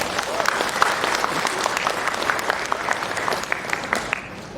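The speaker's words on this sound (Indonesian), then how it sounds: "ya tepuk tangan" An audience at an Islamic religious lecture claps together in a sustained, dense round of applause lasting several seconds, moderately loud and even, easing off slightly near the end.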